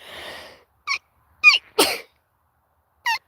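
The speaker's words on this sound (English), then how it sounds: "I had to sneeze." A single sharp sneeze bursts out after a soft breath and a couple of quick intakes, close and loud, then a short sniff follows.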